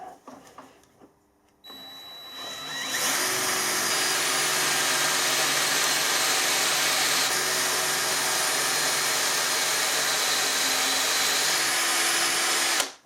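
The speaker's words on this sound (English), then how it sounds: "I've got a little bit of tape on there so I know when I get down to the tape I'm drilled deep enough." A drill bores a hole into metal down to depth, marked with tape on the bit as a stop; after a brief start the motor runs loud and steady, with a continuous whine and grinding and no talk.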